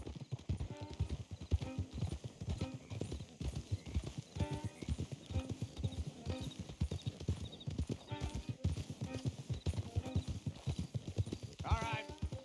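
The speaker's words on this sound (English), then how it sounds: "Don't want the horses clopping around outside the window." Horses clop steadily at a walk in Red Dead Redemption 2, a close, irregular run of hoofbeats throughout, with a short whinny near the end and voices talking over it.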